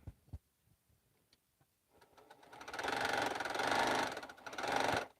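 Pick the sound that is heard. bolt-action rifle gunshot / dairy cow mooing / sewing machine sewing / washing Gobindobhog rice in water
sewing machine sewing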